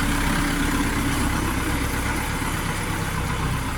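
An Orion JD 504 tractor engine idles with a steady, rumbling drone, loud and close, unchanging throughout.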